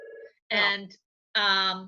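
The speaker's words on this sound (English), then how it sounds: "I'm so sorry. That's my phone." A mobile phone rings with two bright, tonal electronic ring bursts about a second apart, loud and close, while a person briefly speaks just before the first burst.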